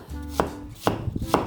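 A knife chops through a pear on a cutting board while making galbi marinade, three sharp, separate thuds spaced about half a second apart, close and clear with no talking.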